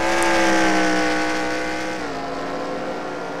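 Race cars in an online stock-car league race at an Edmonton track sweep past in a video game, a loud sustained engine whine whose pitch drops as the pack flies by and fades.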